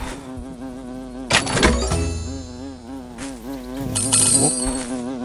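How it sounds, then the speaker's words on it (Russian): A wasp in the stilt-walking video game Walk Master buzzes steadily and close, its tone wavering up and down, with a couple of brief thunks and rustles over the buzz. "Осторожно, оса!"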